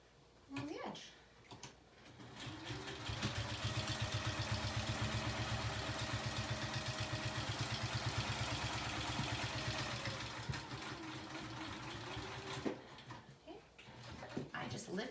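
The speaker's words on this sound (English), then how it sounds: "sew a 1/4 inch along the edge" A sewing machine stitches a quarter-inch seam along fabric edge, a rapid, even mechanical whir that builds, holds steadily for several seconds, then stops, with someone talking quietly over it.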